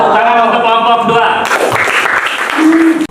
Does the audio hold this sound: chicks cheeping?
no